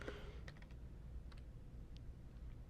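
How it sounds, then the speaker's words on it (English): Quiet typing on a computer keyboard during live game programming work, several scattered key clicks and short bursts at close range over a low background hum, with no talk. "let me finish typing out my function names also before we go any further"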